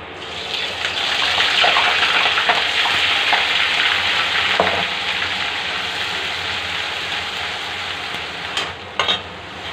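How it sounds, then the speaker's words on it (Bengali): Onion paste frying in hot oil: a loud, steady hiss and sizzle fills the whole stretch with faint crackles and stirring, and a couple of soft clinks near the end. "অয়েল গরম হওয়ার পর দিয়ে নেব পেস্ট করে রাখা পেঁয়াজ"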